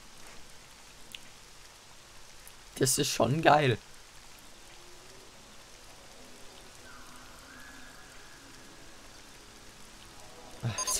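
Rain in RollerCoaster Tycoon 3 patters softly and steadily as game ambience, with a faint musical tone in the background. Someone speaks briefly and loudly over it.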